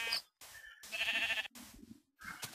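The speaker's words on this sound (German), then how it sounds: "Schafe." Minecraft sheep bleat in the video game, several short wavering baas separated by brief silences, clear and close with no talking.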